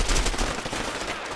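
Video game gunfire: a dense, loud rattle of rapid shots with no break, close and harsh, with no talk over it.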